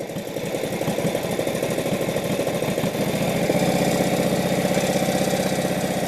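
A 1948 Indian Chief motorcycle engine runs with a loud, close, uneven chugging idle that smooths into a steadier, fuller drone as the throttle opens partway through; no talking.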